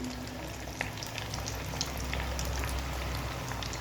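Fish coated in lentil powder shallow-frying in a pan over lowered heat, a dense, even crackling sizzle like light rain, steady and close with scattered tiny pops and no voices.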